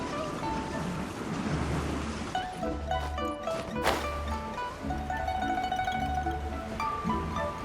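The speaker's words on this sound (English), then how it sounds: "The sound of the waves in this familiar port." Ocean waves wash against a harbor in the Genshin Impact port, a steady surf and breeze with a low rhythmic pulse and faint game-ambience tones layered over it.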